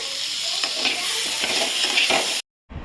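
Green chillies and black cumin seeds crackling in hot oil, a loud close sizzle with small stirring scrapes, briefly cut to silence before it resumes.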